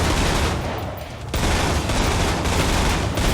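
Dense, rapid gunfire from a hard-recoiling weapon in the zombie shooter Killing Floor 2, loud and continuous with a brief dip before bursting back in full force.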